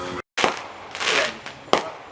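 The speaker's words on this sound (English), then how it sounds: "Are you lighting off our fireworks?" Fireworks set off nearby in a backyard: two sharp, loud bangs about a second apart, with a burst of crackling and hissing between them.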